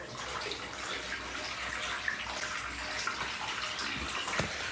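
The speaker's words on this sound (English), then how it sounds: "Right, so we're filling the bath, we're checking the waste." A bath fills from taps without edge-mounted fittings, water gushing steadily into the tub in a continuous close rushing splash, with a few small knocks near the end.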